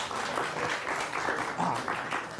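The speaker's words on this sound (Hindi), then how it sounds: "ताली बजाओ।" An audience at a comedic poetry show applauds with dense, sustained clapping throughout, fairly loud and close, with no talk over it.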